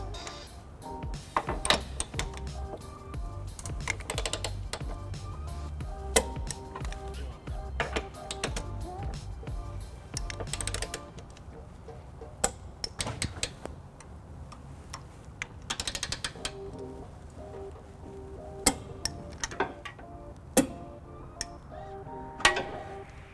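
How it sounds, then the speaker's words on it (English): A torque wrench set to 42 pound-feet clicks while tightening bolts during a trailer hitch installation on a 1999 Lexus RX300, producing sharp, scattered ticks and clicks over a steady low rumble, with some faint background voices. "you'll hear that value reached when the wrench clicks"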